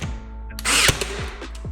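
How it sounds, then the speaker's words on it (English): An air nailer fires with sharp, short bursts of compressed air while fixing MDF boards to a wall for an accent panel, one loud hissing shot followed by quicker thuds, all close by. "I'm going to use an air nailer and a Dynaflex glue to fix the boards"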